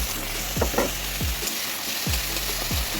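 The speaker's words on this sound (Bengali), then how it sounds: "কড়াইতে আমি তেল দিলাম আর এখানে পেঁয়াজ আমি ছোটো ছোটো করে ছোটো ছোটো করে কেটে রেখেছিলাম এখানে পেঁয়াজগুলি দিয়ে দিলাম" Chopped onions and ground spice paste fry in hot oil in a wok, a steady close sizzle broken by several short scraping strokes of a spatula stirring the mix at regular intervals.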